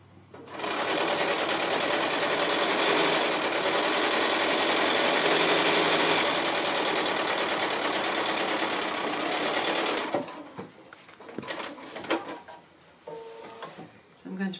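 A sewing machine stitches a quilt block, running in a loud, steady whir for about ten seconds before stopping, followed by quieter handling clicks and fabric rustle.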